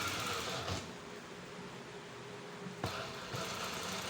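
A sewing machine stitches a two-piece shirt collar along its buckram, with a steady close whir that briefly pauses and restarts.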